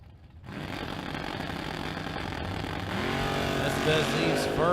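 Ford Mustang drag race cars at the start line, a rising roar of engines building as they launch, loud and sustained, under a track announcer's voice over the public address.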